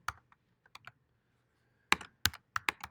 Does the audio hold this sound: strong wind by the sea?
no